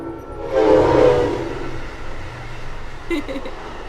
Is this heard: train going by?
yes